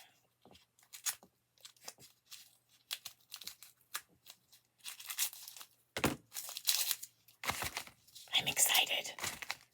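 A well-taped package is torn open by hand in a crafting and yarn setting, with bursts of close ripping and crinkling tape and paper between pauses. A voice speaks briefly and softly amid the tearing.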